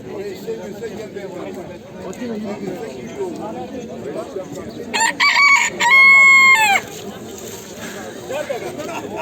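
A rooster crows loudly nearby at the Edirnekapı bird market, a strained, stretched call rising over a noisy market murmur of voices and clatter.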